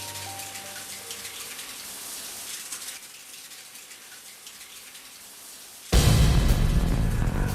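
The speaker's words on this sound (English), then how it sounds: "Can you hear that? Is it rain? It's the shower." A shower runs in a bathroom in the video game Deadly Premonition, a steady hiss of spraying water under ambient game sound that swells abruptly louder and closer near the end.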